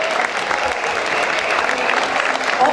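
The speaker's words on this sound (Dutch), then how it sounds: "Geef hem applaus, onze burgemeester, Madan!" Audience applauding the mayor at a Tilburg volunteers' party, a steady, dense wash of clapping from a crowd that holds at an even, fairly loud level throughout, with no distinct voices standing out.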